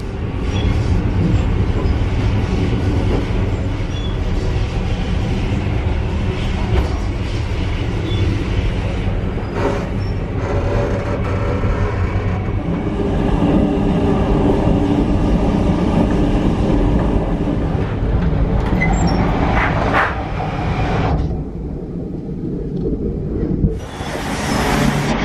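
Overnight train rolling on rails in Australia, a continuous rumble with rhythmic clacks and occasional squeals, steady and close, with no voices.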